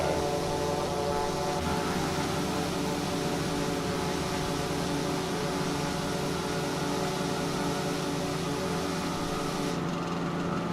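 Small-engine Eurofly Twinfox light plane in Microsoft Flight Simulator, a continuous buzzing drone with a fine rattling texture at steady loudness, alone without voices.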